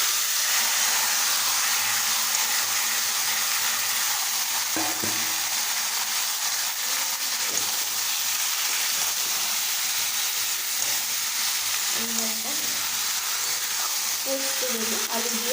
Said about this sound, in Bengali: এই যে চিকেন, এবার এই চিকেনটা দিয়ে দেবো।